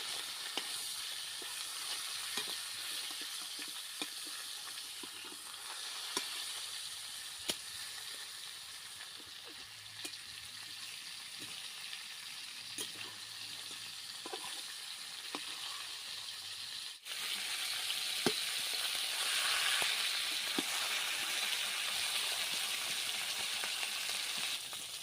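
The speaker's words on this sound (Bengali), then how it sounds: "মাছের মাথা ভাজা হয়ে গেছে, এখন উঠিয়ে নিচ্ছি।" A fish head fries in a pan during village-style Bengali cooking, giving a steady, fairly soft sizzle with scattered small crackles and pops that swells louder near the end.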